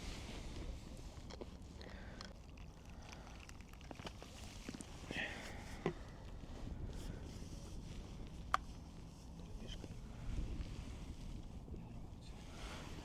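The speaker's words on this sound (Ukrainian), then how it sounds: "Це вітер мені здається." Steady wind rushing and buffeting the microphone outdoors on a frozen lake while ice fishing, with faint water movement and a few brief knocks.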